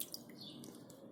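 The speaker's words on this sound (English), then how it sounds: "we can see that water is coming down" Water trickles and drips down through the soil of a fig bonsai grown root-over-rock after watering, a faint, steady soft patter heard alone at close range.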